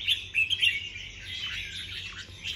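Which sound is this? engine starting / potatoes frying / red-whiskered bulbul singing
red-whiskered bulbul singing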